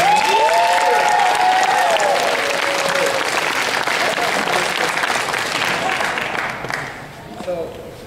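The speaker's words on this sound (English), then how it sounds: "can we give a round of applause for these guys?" A convention audience at SacAnime gives loud applause and some cheering for the Borderlands voice actors, a dense roar of clapping that fades toward the end while a voice speaks at the start.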